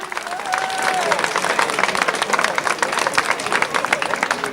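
A crowd applauds steadily for the stage winner at the podium of the Tour du Tarn-et-Garonne cycling race in 1991, with dense clapping sustained throughout and a voice talking over it.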